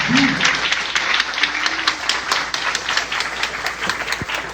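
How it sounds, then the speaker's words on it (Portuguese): Steady applause from an audience at an academic mathematics talk, many hands clapping densely throughout, with faint voices mixed in beneath. "pedir uma salva de palmas"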